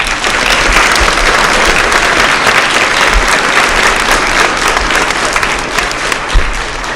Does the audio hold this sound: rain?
no